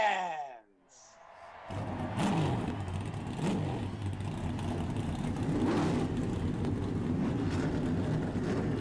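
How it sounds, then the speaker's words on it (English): Race car engines in the iRacing sim start up together at a NASCAR event at Road America, rising into a loud, sustained revving roar that fills the rest of the stretch after a brief quiet moment. "Drivers, start your"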